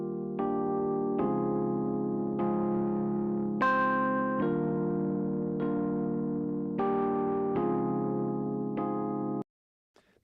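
A sustained, gritty overdriven tone with warm Leslie-like breakup from the Mixland Vac Attack plugin, struck in repeated chords about every second or so, ringing loud before cutting off abruptly near the end.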